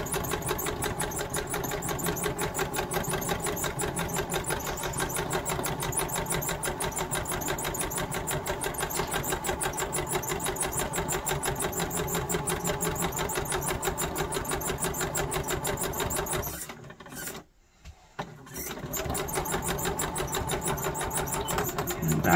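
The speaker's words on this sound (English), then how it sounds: "I'm going to sew up to the pin and remove the pin." A sewing machine stitches fabric for 18th-century fall front trousers, running steadily and close with a fast rhythmic needle chatter for most of the time, then stopping briefly before starting up again.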